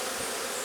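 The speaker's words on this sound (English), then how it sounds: "No, that's a big drone bee. That's a male." A large male drone honeybee buzzes close by near a hive during a beekeeping inspection, a loud, steady droning hum that lasts the whole moment with no talk.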